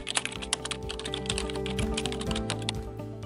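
Close, quick typing on a computer keyboard as a prompt is entered, with dense clicking keystrokes over steady background music and no speech.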